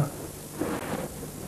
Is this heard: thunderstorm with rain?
yes